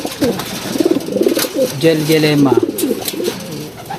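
Racing pigeons coo in low, throaty rolling phrases, close by, while someone talks over them throughout.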